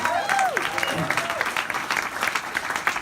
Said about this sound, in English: Round of applause for Roger Brown.